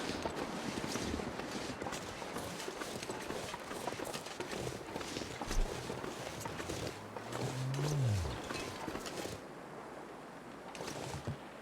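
A moose calls in The Long Dark, somewhere around Bleak Inlet: one low, drawn-out moaning bellow that rises and then falls, moderately distant, heard late in the clip over steady wind and ambient rustle.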